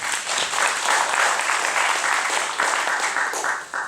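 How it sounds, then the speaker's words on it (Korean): Steady congregational applause in a church service, a dense wash of many hands clapping with a slight rhythmic pulse, fading slightly toward the end. "주님께 영광의 박수를"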